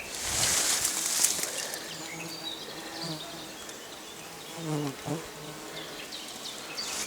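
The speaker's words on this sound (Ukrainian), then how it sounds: "Бджола працює на живокості." A bee buzzes close by on larkspur flowers in a forest with a steady droning hum that rises and fades as it moves, with faint outdoor background and occasional distant bird calls.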